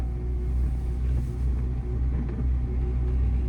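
A car engine rumbling steadily as it accelerates gently during a beginner's driving lesson, a low continuous drone heard from inside the cabin, with no talk.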